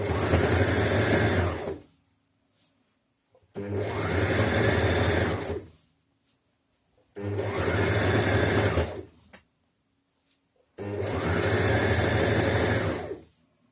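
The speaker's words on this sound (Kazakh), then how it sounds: "Осы матадан 5 сантиметрлік тігіп аламыз." Sewing machine stitching fabric strips, four close, loud bursts of rapid whirring stitching about two seconds each, separated by quiet gaps with faint handling noises.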